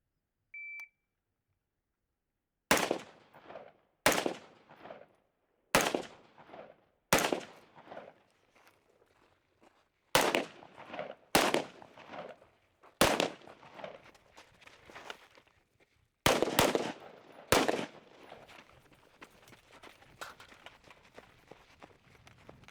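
A Fightlite SCR rifle fired outdoors, with about ten sharp, loud single shots in irregular pairs and singles and ringing echoes between them. A short electronic beep comes first, and a soft rustle of handling closes the sequence.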